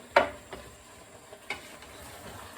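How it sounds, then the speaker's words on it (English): Chopped tinned tomatoes with their juice stirred in a casserole pot over high heat: a quiet bed of simmering sizzle broken by a few soft spoon knocks against the pot, one sharper than the rest. "Quick stir to get them spread around."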